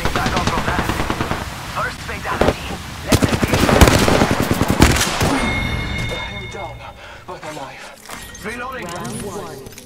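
Apex Legends gunfire: rapid automatic bursts of close shots in the first half, then fainter game effects, with people talking over the action.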